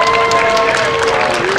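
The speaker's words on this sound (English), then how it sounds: "Please give yourselves a huge round of applause for being here in person" A crowd applauds at the opening ceremony of the 55th annual Northern California Cherry Blossom Festival in Japantown, a dense, steady wash of clapping that holds evenly through the short stretch.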